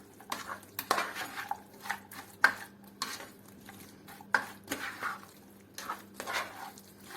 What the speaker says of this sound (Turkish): Şimdi bunu böyle karıştırıyorum